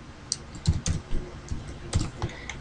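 Fingers type text on a computer keyboard in a quick, uneven run of close, crisp key clicks, with short pauses between bursts.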